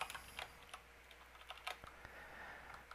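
Quiet, scattered keystrokes on a computer keyboard, irregular taps and clicks spaced through a short stretch, close by and faint with no talking.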